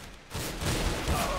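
Loud, dense rifle fire in the shooter game CS:GO, a quick run of overlapping shots that swells after a brief quieter start.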